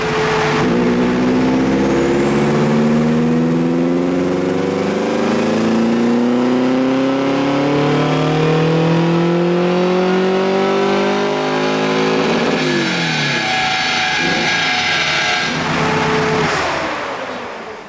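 A Subaru WRX autocross car's engine revs hard and close for the whole stretch, the pitch sweeping up through repeated climbs, with a sharp shift and burble near the end before it winds back up.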